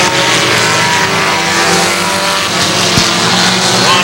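Rookie stock cars racing at Hudson Speedway in New Hampshire, a loud dense roar of engines filling the whole span, steady and continuous with a brief thump near the end, no talk heard.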